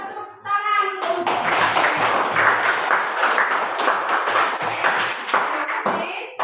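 A group of participants in a classroom-style session clapping together, a dense burst of handclaps starting abruptly and holding steady for several seconds before stopping.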